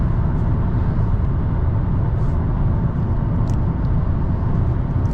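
Manual right-hand-drive sedan cruising on a highway at about 70 mph, a steady, loud cabin rumble of road and engine noise with no shifts and no voices.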